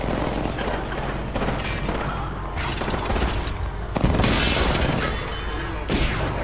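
Dense Apex Legends gunfire, rapid crackling shots and booming impacts that run continuously and loudly, with a sharper burst of shots near the end.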